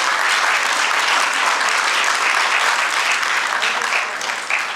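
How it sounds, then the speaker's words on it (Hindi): An audience at a stage play bursts into loud, dense applause to welcome the director, Mohammad Nazir Qureshi, sustained clapping from a large crowd that holds strong and eases slightly at the end. "जोरदार तालियों से स्वागत करें"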